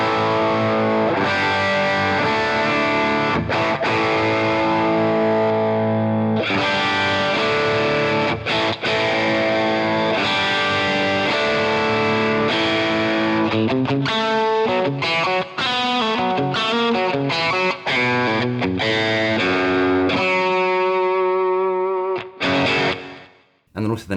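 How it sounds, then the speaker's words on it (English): An electric guitar with reduced overdrive and a split humbucker pickup plays a series of distorted chords and single-note runs, loud and close, with brief pauses between phrases before the last notes fade out. "let's reduce the overdrive a little bit and let's split the humbucker so you can hear the difference"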